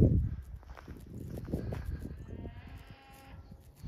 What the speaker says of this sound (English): See the cows going up to the pond